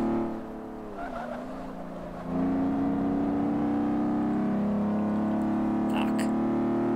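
In Forza Motosport 5 on Xbox One, a car's engine hums steadily and then climbs into a loud, sustained high-revving drone under acceleration, with a brief tire squeal and faint speech under the engine.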